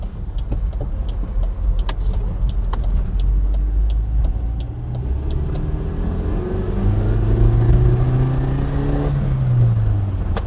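A 1995 Toyota Hilux 2WD ute engine pulls and revs upward while driving on a road, heard from inside the cab with rising engine tones, road rumble and small rattles and jingles throughout.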